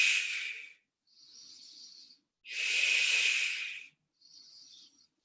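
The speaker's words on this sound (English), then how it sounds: "Big breath." Deep breathing during a no-equipment intermediate Pilates workout: four airy breaths alternating long and shorter inhales and exhales, close and soft, with no speech.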